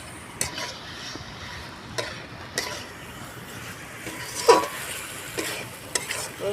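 Young jackfruit curry being sautéed with spices in a pan, a soft continuous sizzle with several sharp spoon scrapes and knocks against the pan at irregular intervals.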